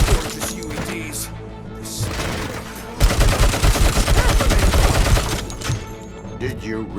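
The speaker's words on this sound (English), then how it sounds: "Oh, those UEDs shoot so beautifully. Too bad they're shooting at me!" Enemy UEDs fire at the player in the video game Robocop: Rogue City, a dense, loud burst of rapid gunfire that rises out of a busy game soundscape and fades after a few seconds.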